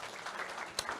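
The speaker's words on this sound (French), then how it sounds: "Alexandre Antonienko, on peut l'applaudir, il arrive à l'instant" Brief burst of audience applause for a speaker arriving at a neuroscience and digital transformation conference, a soft, steady patter of clapping with one sharper clap near the end, fairly faint and without talk.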